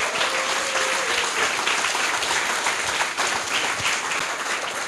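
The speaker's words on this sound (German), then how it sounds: "Großen Applaus." An audience applauds at the closing ceremony of the Jugend hackt Köln 2019 youth hackathon, a dense, sustained wash of clapping from many hands at an even level throughout.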